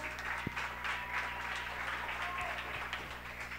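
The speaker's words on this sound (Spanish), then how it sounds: "¡Un aplauso para el poste García!" Crowd applause at a street freestyle rap battle, a steady clatter of clapping mixed with shouting voices and a background hum.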